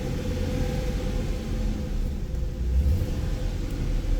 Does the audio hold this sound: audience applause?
no